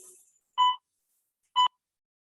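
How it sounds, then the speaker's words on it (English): A workout circuit timer gives two short electronic beeps about a second apart, clear and isolated with silence between them, after some faint trailing noise at the start. "And there's the buzzer."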